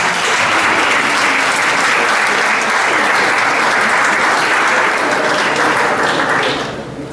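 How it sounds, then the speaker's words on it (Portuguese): Steady, loud applause from a seminar audience, dense and sustained for several seconds before it begins to fade at the end, with no voices over it. "Uma salva de palmas."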